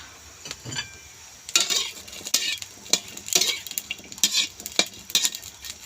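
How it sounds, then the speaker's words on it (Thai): Shallots are dry-roasted in a pan and stirred, with close, irregular bursts of spatula scraping and rattling against the pan over a soft background hiss. "คั่วจนกว่าหอมหอมแดงเราจะแห้งนะคะ"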